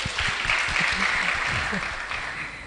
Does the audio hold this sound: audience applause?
yes